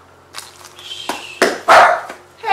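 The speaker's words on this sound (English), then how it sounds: "My dog's barking." A dog barks indoors in a short irregular series of sharp, fairly close barks that build to a louder final burst, with no talking over them.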